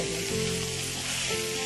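Chicken pieces coated in spiced masala fry in a hot pan, giving a dense, continuous sizzle with crackling oil heard close up and no voices.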